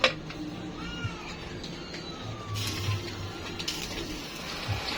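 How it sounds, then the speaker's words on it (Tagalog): A hungry pet cat meows in a kitchen while beef stew cooks, giving a few short, faint mews over quiet background noise with small clinks. "Sige ka man lang ngiyaw-ngiyaw dyan."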